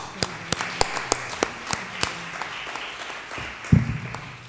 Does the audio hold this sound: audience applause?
yes